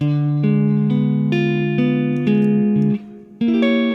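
A clean guitar riff of plucked notes with hammer-ons and pull-offs, played at a steady pace, ending with a brief pause and one last note.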